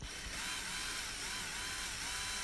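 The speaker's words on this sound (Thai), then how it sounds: "เนี่ยนะครับเราก็เจาะแบบนี้ไปเรื่อย ๆนะครับ เหล็กหนาก็อาจจะใช้เวลาเจาะค่อนข้างนานนิดนึงนะครับ" A cheap cordless drill bores slowly into thick steel, producing a steady, continuous high whine and grinding buzz that holds at an even, fairly loud level throughout.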